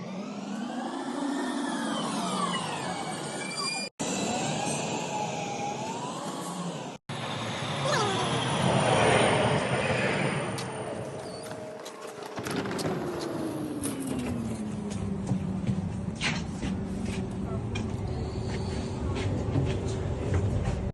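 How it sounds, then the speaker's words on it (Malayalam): A tram rolls into a station in Germany with a rising and falling electric whine and rumbling wheels, squealing faintly as it slows, loud and close. "But the difference is the tram. Here comes."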